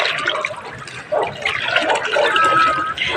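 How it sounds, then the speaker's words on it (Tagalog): Typhoon floodwater sloshes and churns close by in a steady, loud wash of water that runs the whole time, with no speech over it. "Tingnan natin kung hanggang saan itong tubig"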